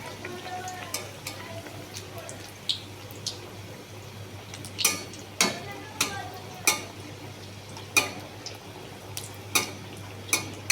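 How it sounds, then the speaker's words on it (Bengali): Dhakai paratha frying in oil on a hot pan, a low continuous sizzle broken by about a dozen sharp scraping taps of a metal spatula spreading the oil, fairly quiet. "তেলটা মাঝখানে এরকম করে খুন্তি দিয়ে মাঝখানে তেলটা এরকম করে ছড়িয়ে দিতে হবে"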